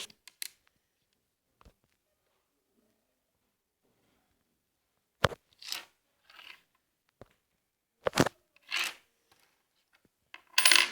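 A coin from a foreign coin collection clinks sharply against a hard surface several times, with short spinning rattles and handling noises between quiet pauses.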